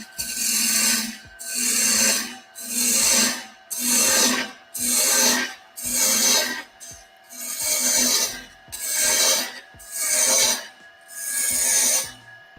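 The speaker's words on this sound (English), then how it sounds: "I'm going to take my spindle roughing gouge again. I'm going to remove some stock." A spindle roughing gouge removes wood stock from a workpiece spinning on a lathe, making about ten loud, evenly spaced rasping passes over the steady hum of the machine.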